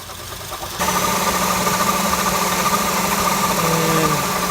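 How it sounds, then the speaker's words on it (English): A failing AC compressor clutch on a 2007 Acura RDX engine kicks in after a quiet start, leaving a steady mechanical drone over the idling engine, with a grinding, whining hum that shifts slightly toward the end. "AC clutch is going mad"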